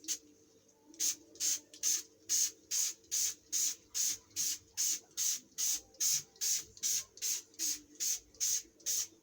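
Trigger spray bottle of vinegar cleaning solution misting inside a fridge, heard as a long run of about twenty quick, even spritzes, close and crisp over a faint background hum.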